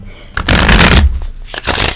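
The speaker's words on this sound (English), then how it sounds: "That wasn't a very good shuffle." Tarot cards are shuffled in two loud, close riffling bursts separated by a short pause, with no talking over them.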